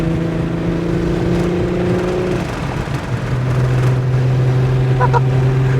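A supercharged 3800 V6 Pontiac Fiero GTP with a five-speed drives steadily, its engine holding a droning note that drops briefly as it shifts and then settles into a lower, even hum, close and continuous.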